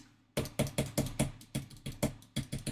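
Small osu keypad fitted with Wooting switches, pressed in a quick, uneven run of sharp clacks that ring slightly, heard close with no talking.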